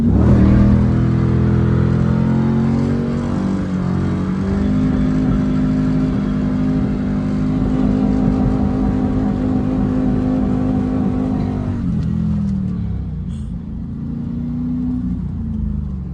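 A 1999 Chevrolet Camaro SS accelerates hard with traction control switched off, its V8 roaring loud and close as the engine note climbs steadily, then drops off sharply near the end as the revs fall away.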